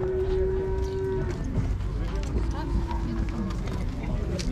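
Cattle low and moo in a busy livestock market in Uzynagash, with dense crowd chatter and bargaining voices running throughout, a steady din under the animal calls.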